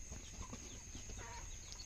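Native chickens and a rooster settling to sleep at night on a farm, giving faint low clucks and soft murmurs at a distance over a constant high electrical hum.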